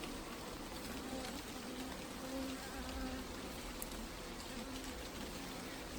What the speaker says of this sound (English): That loud buzz you hear is a drone being noisy.